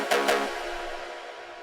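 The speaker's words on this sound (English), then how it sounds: "this is an acid shot" An acid synth shot for a techno drop fires two quick, buzzy stabs in succession, then rings out into a long fading reverb tail.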